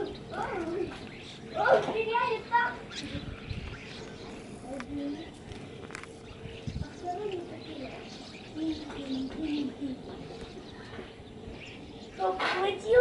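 Starlings call noisily in bursts of chattering and whistling, mixed with cooing, while a person talks over them.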